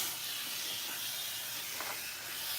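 Running water hisses in a steady, broad spray close by as it rinses hair in a sink, a continuous rinsing rush with slight fluctuations.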